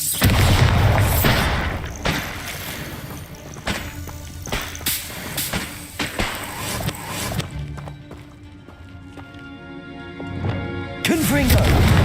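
A Bombarda explosion spell in the Hogwarts Legacy video game gives several sharp, booming impacts among busy battle sounds, clattering hits and game music, with a loud burst at the close.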